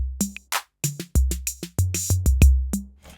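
Low tom hits from a Roland TR-08 or Behringer RD-8 analog drum machine sound alone as a dry, fairly quiet sequence of about a dozen short, booming thuds in an uneven pattern, each with a quick pitched decay, some overlapping with other drum hits.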